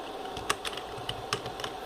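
Soft, quick keystrokes on a computer keyboard as a search term is typed into a PC browser, a brief irregular run of light clicks heard alone at low volume.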